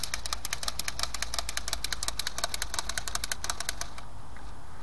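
A toy flying bird's rubber band is wound by hand, a rapid series of evenly spaced clicking ratchet sounds up close that stop abruptly near the end.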